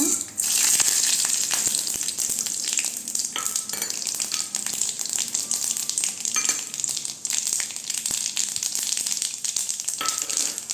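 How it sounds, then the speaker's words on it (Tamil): Mustard seeds and urad dal crackle in hot oil in a kadai while a wheat rava upma tempering begins, giving a steady, loud, close sizzle with spattering pops throughout and no voices. "இப்போ கடுகு உளுந்த பருப்பு சேர்த்துக்கலாங்க."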